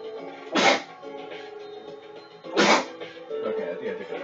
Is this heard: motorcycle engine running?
no